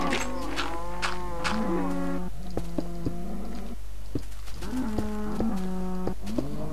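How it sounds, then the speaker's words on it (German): Cattle mooing in the video game Minecraft, several long, loud, harmonic moos following one another closely, some overlapping, with a steady low hum beneath. "ich bin bei den Kühen eingeschlossen"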